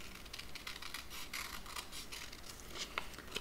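Scissors snip through folded paper in a row of short crisp cuts, close and fairly quiet, with no voices.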